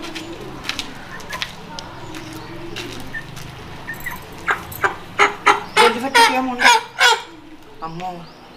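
A country chicken of about two kilos squawks and clucks in a run of sharp, loud cries as it is caught in a village yard, with voices talking quietly underneath beforehand.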